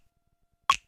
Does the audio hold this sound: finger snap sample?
yes